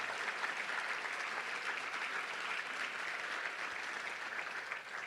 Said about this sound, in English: Let's give all of our sponsors a big round of applause for sponsoring the Touchdown Club.